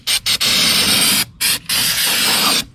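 Aerosol spray can hissing in short and long bursts over the valve cover area of a 2013-2017 Honda Accord 2.4L engine during gasket replacement, loud and close, with brief pauses between sprays.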